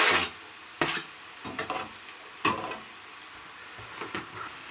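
Spring onions and garlic fry in a pan with a soft steady sizzle, broken by a few scraping stirs of a utensil against the pan, close and quiet with no talking.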